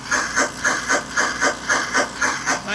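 Fan motor on the Royal Blue model train chassis during a bench test: a rhythmic hissing whoosh pulsing about four times per second, steady and fairly close, with no talking.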